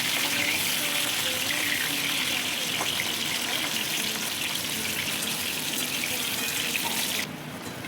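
Potatoes frying in hot oil in a wok, a loud, dense, continuous sizzle and spatter close by that drops in level near the end.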